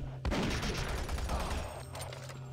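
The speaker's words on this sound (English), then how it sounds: "I love assault rifles" An assault rifle in Doom 3 VR fires one sustained burst of rapid shots lasting about two seconds, then cuts off, heard alone at a moderate level.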